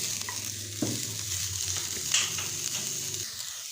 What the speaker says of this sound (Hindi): अब मैं इसको यहाँ पे मिक्स कर दूँगा। अच्छी तरह से हम यहाँ पे इसको मिक्स कर लेंगे।